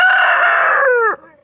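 A backyard rooster gives one loud, close crow that holds steady and then drops off sharply at the end.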